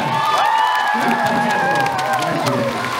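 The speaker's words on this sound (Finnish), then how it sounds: "Annetaan aplodit Nikolle!" A celebration-show audience cheers and applauds loudly and continuously, with shouts and whoops rising above the clapping close by.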